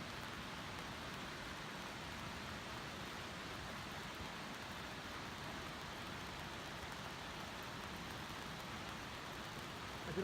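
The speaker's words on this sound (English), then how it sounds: "We were prepared for rain and weren't disappointed." Faint, steady mountain rain on Carstensz Pyramid in Papua patters continuously as a soft, even hiss with no voices, distant and low in level throughout.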